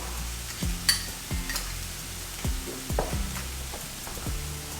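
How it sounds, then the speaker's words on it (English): Sauce goes over ground beef sizzling in a hot pan for spicy Mongolian beef: a soft, constant frying hiss broken by a rhythmic series of spatula scrapes and light clinks as it is stirred, close up and without talk. "Now we go in with the sauce. Sauce right over top."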